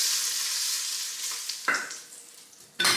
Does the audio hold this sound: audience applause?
no